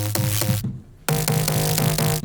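A stored bass layer sample plays back as a loud, tonal synth bass with a rhythmic pulsing pattern, briefly dropping out before resuming for several more repeated hits.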